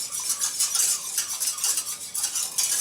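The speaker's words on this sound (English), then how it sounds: "Every couple minutes, give it a quick stir." A spoon scrapes and clinks against a pot while simmering Mumbo sauce is stirred, giving close, continuous rhythmic swishes with no talking.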